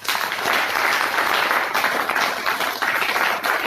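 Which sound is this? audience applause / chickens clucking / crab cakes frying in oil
audience applause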